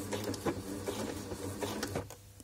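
A domestic sewing machine restitches a seam on elastic bias binding, running in fast rhythmic bursts of needle chatter with brief pauses, close and steady with no talk.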